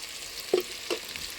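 A tempering (popu) for a puffed rice dish sizzles faintly in a pan, with two brief, soft scrapes or clinks of a utensil over a quiet background hiss.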